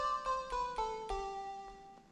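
Anime pluck preset from the Void Serum Bank in Serum, a soft tonal synth pluck sounding a descending run of notes at a steady pace, each with a gentle attack and ringing decay, heard alone without speech.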